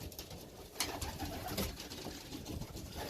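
Young pigeons at a loft coo softly and continuously, with a faint rustle and background hum throughout.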